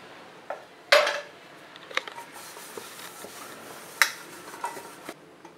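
A spoon scrapes and clinks against a metal cake tin as a spoonful of oil is spread inside for an eggless honey cake, with a sharp clank at the start, a second one midway and softer taps between.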